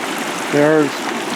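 A side creek in the North Absaroka Wilderness rushes and trickles steadily past some ice, a continuous hiss, while a voice briefly sounds over it, in crummy, windy April weather.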